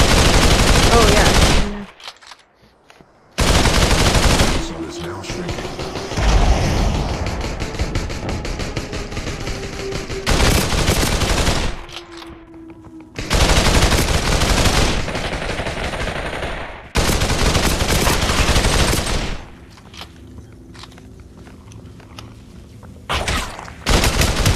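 Rapid bursts of gunfire from the video game Population: ONE, loud, dense stretches of firing broken by brief pauses, with players talking over parts of it.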